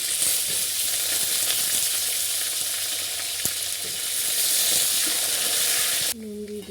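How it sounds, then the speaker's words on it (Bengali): Potatoes frying in hot oil sizzle loudly and steadily at close range with a faint stir now and then, before the hiss drops away sharply near the end. "আলুটা ভেজে নেব।"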